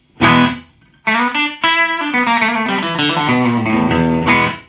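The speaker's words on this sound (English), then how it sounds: "We get a really tight slap back." Guitar notes played through an HH Electronic Digital Multi Echo on its shortest repeat setting, each note followed by a tight slapback echo; loud, clear playing with a brief gap before the phrase resumes.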